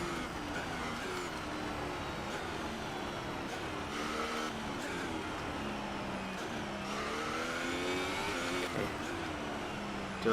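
An F1 race car engine in the F1 2018 video game drones and whines continuously, rising and falling through gear changes and engine braking, with pitch sweeps and a faint squeal over the steady high-revving roar.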